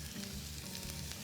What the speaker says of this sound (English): There's that sizzle.